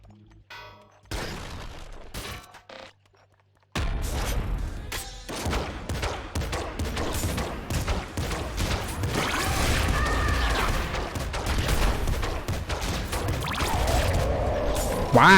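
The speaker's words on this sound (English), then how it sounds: "the pop shotgun might be a little better than I gave it credit for. It has insane fire rate." Rapid merged pop shotgun fire in the video game Nuclear Throne, a dense, continuous clatter of shots and impacts after a brief quiet start, loud and busy with game effects layered throughout.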